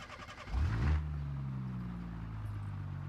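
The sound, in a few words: Vivace car engine driving on track in video game BeamNG.drive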